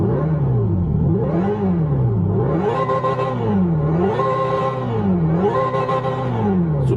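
Synthetic engine sound from a Hyundai Ioniq 5 N electric car's speakers in Evolution mode, rising and falling in repeated rev sweeps, loud and close, with no talk over it.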